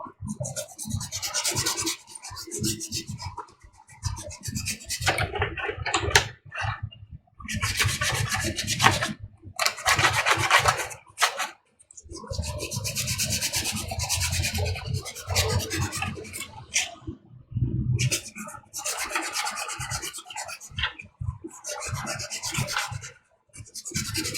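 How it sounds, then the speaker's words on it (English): Sandpaper rubbing around the edge of a ShoreTrooper or DeathTrooper armor chest or back piece before gluing, loud close rasping strokes in bursts separated by short pauses. "sand around this whole edge, anywhere that we're going to be applying glue"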